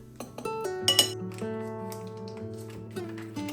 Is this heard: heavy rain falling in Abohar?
no